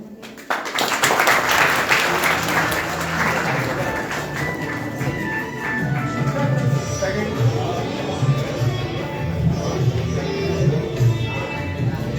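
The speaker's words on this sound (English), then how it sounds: "Give a big round of applause." An audience at an international seminar breaks into sustained applause, with steady clapping filling the hall while a voice speaks over it.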